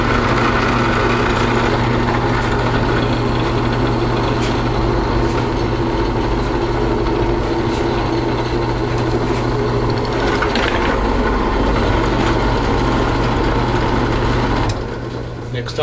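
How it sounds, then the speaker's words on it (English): A power drill bores a hole all the way through the width of a kaleidoscope piece, giving a loud, unbroken motor drone that holds steady and then eases off just before the end. "I'm going to drill the hole in this one and in all of these, all the way through the width of it."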